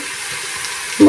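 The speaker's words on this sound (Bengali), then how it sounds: "রসুন বাটা দিয়ে 1 মিনিট ভেজে নেওয়ার পর এখন আমি এর মধ্যে দিয়ে দিচ্ছি 1/2 টিস্পুন" Garlic paste frying in a pan for a prawn curry with radish, a steady close sizzle, ending in a brief louder burst.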